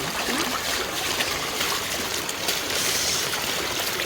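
Strong floodwater rushing through a residential street in Virudhunagar during heavy rain, a dense, continuous loud roar and splash that stays steady throughout with no voices.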